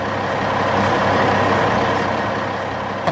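Heavy trucks hauling large rocks in a 3D-animated construction scene, a loud continuous engine rumble and broadband road noise with no pauses, steady from start to finish.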